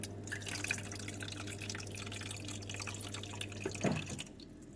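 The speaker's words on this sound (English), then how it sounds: "and then it should refill with water now." Water trickles and drips into the ice tray of a Bosch fridge-freezer icemaker (KAN58A45G) as it refills after a test cycle, a faint, close splashing over a steady low hum.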